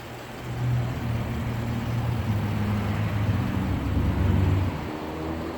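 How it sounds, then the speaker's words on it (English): Road traffic passing beside a parked 2018 Jaguar XF, a steady low rumble of cars and engines swelling and easing, moderately loud with no talking over it. "I know you can hear the traffic in the background."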